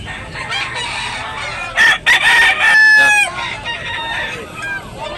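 Bull stag roosters in Tabunok, Cebu crow loudly and close by, with several long crows overlapping amid steady clucking and background farmyard noise.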